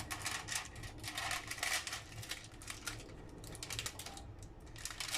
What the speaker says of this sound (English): Let's take the plastic film off.